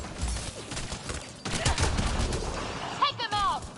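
Rapid gunfire rattles in the Mass Effect Andromeda game, a dense volley of shots in quick succession, loud and close, with voices speaking over it.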